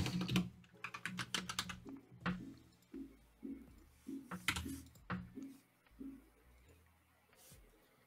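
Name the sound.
typing on a computer keyboard while writing JavaScript code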